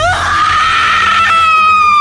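A woman in a horror film scene screams while possessed during a mass possession at a campsite in a forbidden forest, one loud, sustained, piercing cry filling the whole moment.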